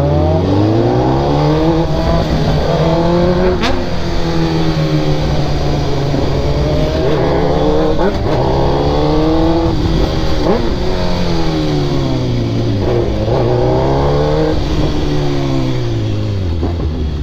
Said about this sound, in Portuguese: Ó a moto trepidando, ó.